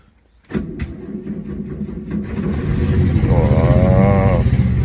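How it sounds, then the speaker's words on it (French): Renault 4L engine making its first cold start of the day, a brief starter crank and then the engine catching and settling into a loud, steady idle close by, with a faint voice at the start. "Allez, premier démarrage à froid, elle n'a pas démarré depuis hier."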